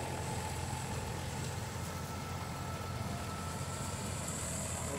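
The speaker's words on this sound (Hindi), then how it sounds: "ये चल रही ट्रैक्टर वाली कंपेन है ये" A John Deere 5310 tractor running a tractor-driven combine harvester in a field, giving a steady, continuous engine drone with a rumbling low end and mechanical rattle that holds level throughout, with no talk.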